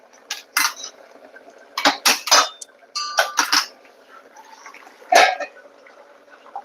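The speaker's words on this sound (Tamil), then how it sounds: "இப்போ நம்ம தாளிக்க ஆரம்பிச்சிடலாம்" Spices tempering in a pan over a simmering drumstick curry, with sharp irregular sizzling crackles and pan clatter in bursts over a faint steady hiss, close and fairly loud, no voices.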